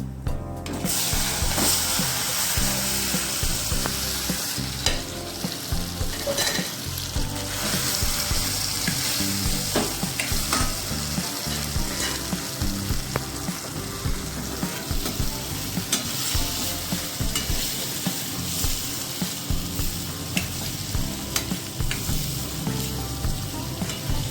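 Cumin seeds and asafoetida fry in hot oil for a stuffed gunda sabzi, giving a loud, continuous close-up sizzle with occasional scraping and stirring clicks throughout.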